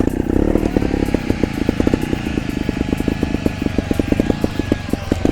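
A small Vertigo trial motorcycle engine runs close by with a rapid, uneven popping exhaust that rises briefly as the throttle is blipped, loud and steady throughout.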